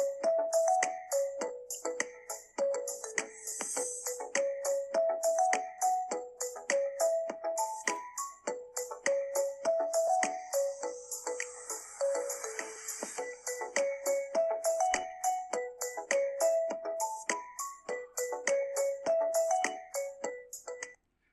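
A looping iPhone remix ringtone plays continuously, steady rhythmic synth notes stepping up and down in a repeating pattern, loud and close.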